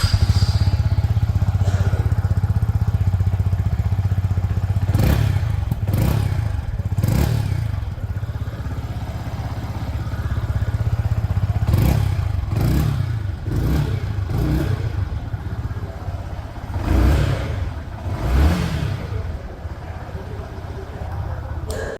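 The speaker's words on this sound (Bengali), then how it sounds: "সবার আগে চলুন এর এক্সস্ট সাউন্ডকে একবার শুনে নেওয়া যাক" A Yamaha XSR 155 motorcycle idles close by with a steady low exhaust rumble, punctuated by several sharp throttle blips and revs that rise and fall; faint talk can be heard beneath.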